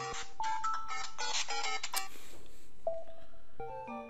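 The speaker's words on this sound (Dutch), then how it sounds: "even wachten, mijn telefoon gaat" Mobile phone ringtone going off indoors during a game recording, a bright rapid electronic melody of repeated beeping notes, a short pause, then the tune resuming, loud and close with no talk.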